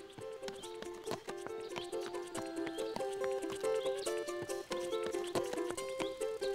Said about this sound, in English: Here's Golden Hoof, your royal horse.